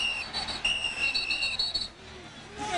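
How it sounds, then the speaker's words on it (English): Referee's whistle at a 2001 Texas Longhorns versus Texas A&M Aggies college football game, several shrill tones in short bursts over steady stadium crowd noise. "And a whistle blew."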